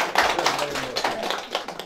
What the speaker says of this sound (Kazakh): Ал қошемет шапалақ бізден болсын